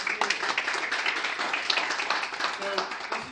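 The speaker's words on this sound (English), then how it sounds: "So this is a great applause." An audience at a township committee and mayor campaign event in Manalapan, New Jersey applauds with a dense, steady patter of many hands clapping, while a voice carries over it.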